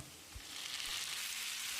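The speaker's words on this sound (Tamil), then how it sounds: "தக்காளியை நல்லா மசிகிற அளவுக்கு வதக்கிடலாம்" Tomatoes sizzle steadily in a hot pan, a soft continuous frying hiss with a couple of faint knocks at the start.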